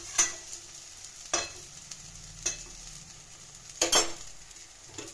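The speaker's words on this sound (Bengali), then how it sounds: "আমি আবার একটু নাড়াচাড়া দিয়ে" A pot of mukhi kochu (taro) curry gets a brief stir: four distinct scraping strokes cut through a soft, steady simmering sizzle.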